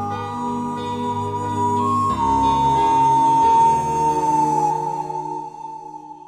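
A phone ringing in a drama scene, a loud sustained electronic ringtone melody with held tones that swells and then fades out, with no voices over it.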